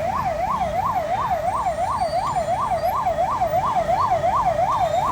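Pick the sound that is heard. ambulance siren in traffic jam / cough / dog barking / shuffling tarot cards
ambulance siren in traffic jam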